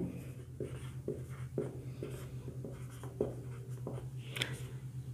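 A pen writes out a math solution on paper, close scratchy strokes in a quick irregular rhythm, alone over a low steady hum.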